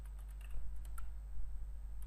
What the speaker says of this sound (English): I'm just typing New York here